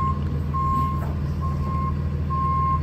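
A tow truck's reversing alarm beeps three times in steady, evenly spaced tones over a low diesel engine rumble.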